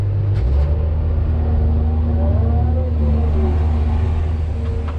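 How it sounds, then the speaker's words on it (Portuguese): A Caterpillar hydraulic excavator loading a truck rumbles steadily at close range, a deep diesel drone with shifting whine and faint hydraulic strain throughout. "Agora eu vou carregar o nono caminhão"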